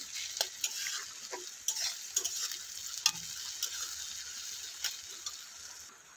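Onion and tomato with a little salt frying to golden brown in a pan; a steady sizzle runs close by while a utensil scrapes and taps at irregular moments, with no voices heard.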